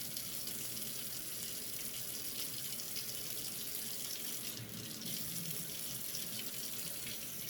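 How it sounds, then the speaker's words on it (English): Tap water runs steadily into a sink while something is rinsed under the stream, a continuous close splashing wash with no voices. "Of course, you rinse it off."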